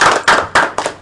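Short bursts of clapping from a small classroom group during a microteaching session, three or four sharp, uneven volleys of hands in quick succession, fairly close and loud.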